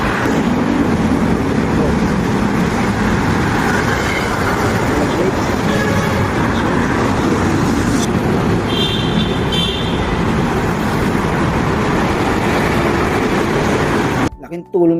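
A motorcycle rides through road traffic at night, a steady, loud rush of engine and wind noise with passing vehicles around it, a brief horn-like tone midway, and a rustle at the end.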